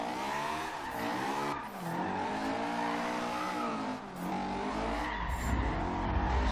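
A Honda S2000 drift build in Forza Horizon 2 screeches through long sliding tire squeals over a revving engine, the pitch wavering as the car spins, loud and continuous.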